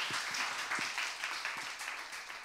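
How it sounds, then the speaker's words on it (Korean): Fan-meeting audience applauding in a hall, a steady moderate wash of many hands clapping for a couple of seconds, fairly quiet and slightly distant, with no talk over it. "박수 한번 주시죠"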